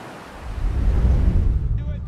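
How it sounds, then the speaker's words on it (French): Ocean waves breaking along a long straight shoreline, a broad rushing surge that swells and holds, with wind noise in the background. "l'écho de ses foulées se confond avec le bruit des vagues"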